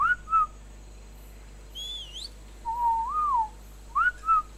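A whistle gesture in the video game ARK: Survival Evolved produces a series of short melodic whistled notes, some rising and falling, with brief pauses between them over a quiet background.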